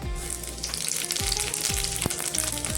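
Cumin seeds sizzle in hot oil in which dried red chillies were just fried, with a dense crackling fry and sharp pops over a steady hiss, close and moderately loud.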